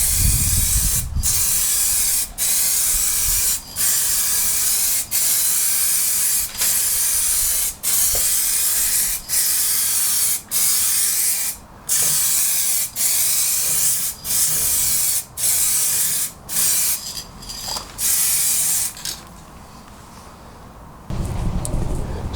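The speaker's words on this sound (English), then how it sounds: "Time for clear coat." A spray gun lays clear coat paint on an MK2 Golf GTI in a long series of short, even hissing bursts, each spaced a second or so apart, loud and close, with quieter background afterward.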